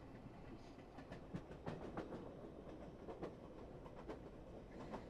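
A train rattles along quietly, with soft irregular clacks and a low rumble heard from inside a carriage, no voices.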